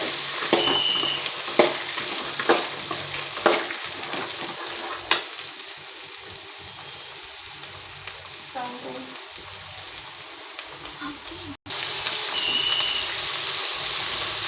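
Soaked chickpeas stirred into a frying pan with turmeric, giving a steady crackling sizzle with regular spatula scrapes early on, which fades to a quieter hiss before the frying noise returns louder.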